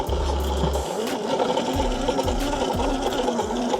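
A Yozma IN 10 Pro 60V electric dirt bike climbs a hill, its motor giving a loud, close, whining drone that surges and eases in repeated pulses as the drivetrain strains, with no talking.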